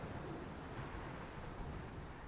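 In the video game Dear Esther, a continuous blustery wind sweeps over the island, an even, enveloping rush of air held at a steady level throughout.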